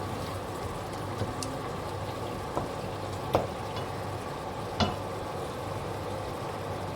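Chili, turmeric and other spices frying in oil for a king prawn curry, a steady close sizzle with a few sharp clinks of the stirring spoon against the pan.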